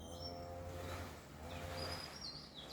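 A bright yellow bird calls outdoors, giving thin, high chirps and short whistled notes at moderate distance over a steady low background hum, with no talking.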